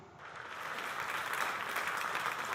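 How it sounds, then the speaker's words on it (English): A small group claps during a mock rocket launch award, soft dense clapping that swells slightly and holds steady, with no voices. "We were like clapping because we know it's true."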